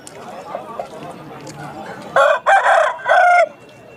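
Voices chatter at the Balrampur poultry market in West Bengal, then a nearby Aseel rooster lets out one loud, close crow in three drawn-out bursts.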